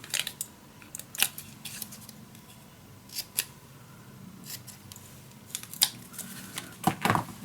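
Scissors cut a triangle off paper, giving crisp snips and small clicks scattered irregularly over a quiet background, close and fairly faint, with no talk.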